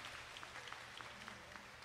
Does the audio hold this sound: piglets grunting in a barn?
no